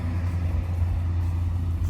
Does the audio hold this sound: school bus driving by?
yes